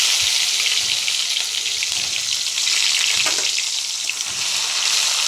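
Chopped ginger and garlic sizzling in hot oil in a wok, a steady, loud bright hiss with faint crackles running throughout, no voices.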